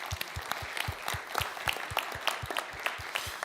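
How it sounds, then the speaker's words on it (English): Scattered, fairly sparse applause from a small audience at a symposium, individual claps distinct and rhythmic, moderately close and at medium loudness throughout. "An applause to her."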